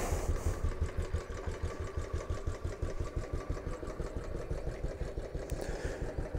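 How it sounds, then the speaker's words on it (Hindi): A Royal Enfield motorcycle engine, fitted with a dry battery, idles steadily with a loud, even, low thumping beat that continues throughout with no voices. "Let's start up the bike."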